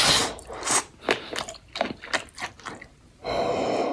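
Someone eating a cooked sausage with barbecue sauce, with close, wet bites and chewing sounds coming in irregular bursts, followed by a steadier soft rustling noise at the end.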